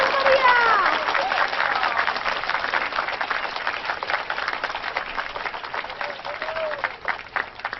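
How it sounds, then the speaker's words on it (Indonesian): Crowd applause at a birthday celebration in an Indonesian comedy film, a steady wash of clapping that fades slightly toward the end, with some voices and a faint whistle-like tone mixed in. "mari kita sambut dengan tepuk tangan yang meriah"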